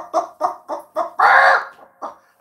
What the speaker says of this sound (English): The chickens are in here.